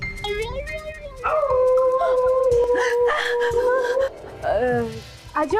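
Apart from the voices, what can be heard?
dog barking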